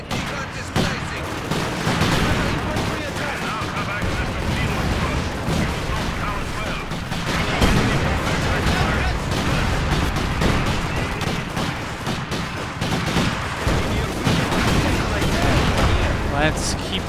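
Heavy sustained gunfire and explosions from a World War II battle in Company of Heroes 2, dense fusillade with booms, loud and continuous throughout, with shouted voices mixed in.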